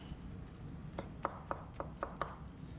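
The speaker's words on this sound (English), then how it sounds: "Chop this up." A kitchen knife chops green pepper and a mushroom on a board, with about half a dozen quiet, evenly spaced taps.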